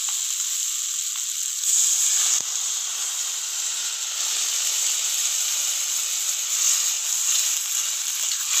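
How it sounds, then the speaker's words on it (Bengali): Water hits a hot pan of pumpkin curry and sets off a loud continuous hiss of sizzling steam that holds steady without letup. "এবারে আমি জল দিয়ে দেবো।"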